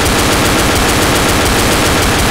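Automatic weapons blaze in the zombie shooter Left 4 Dead on PC, a loud, unbroken stream of rapid-fire shots packed tightly together for a couple of seconds, with no voices over it.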